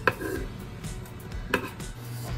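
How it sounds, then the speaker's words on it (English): A knife slicing through beef steak on a board in a home kitchen, two crisp cutting strikes about a second and a half apart over faint background noise. "while I'm cutting this beef steak"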